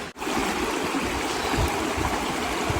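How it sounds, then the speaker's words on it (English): Water rushes and burbles steadily over rocks, a close, continuous stream on a trail with no voices. "listen to the water"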